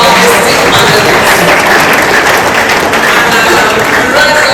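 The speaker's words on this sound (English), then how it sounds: "Please, can we have a round of applause for our esteemed panelists?" Steady, loud applause from a crowd at a business panel event in Onitsha, continuous dense clapping filling the whole stretch with a faint murmur of voices underneath.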